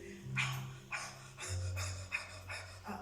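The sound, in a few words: quickened breathing during a breathing exercise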